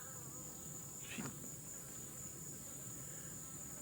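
Honeybees swarm and buzz in a steady, dense drone around an open Layens hive during requeening, with one brief louder pass of a bee close by.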